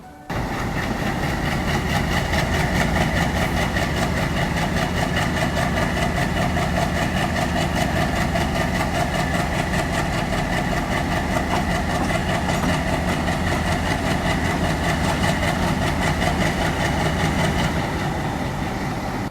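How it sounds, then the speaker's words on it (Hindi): An ALCO diesel locomotive idles steadily and close by for the whole stretch, a constant rumbling throb with no talk over it. "ये एल्को लोकोमोटिव्स मेन लाइन ड्यूटी में इस्तेमाल होते थे। ये आवाज़ सुनो आप।"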